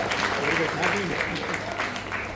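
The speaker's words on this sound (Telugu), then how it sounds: "వెరీ గుడ్, చప్పట్లు కొట్టాలి." Children clap together during a Balvikas storytelling session, a dense patter of hand claps mixed with an adult voice speaking over it.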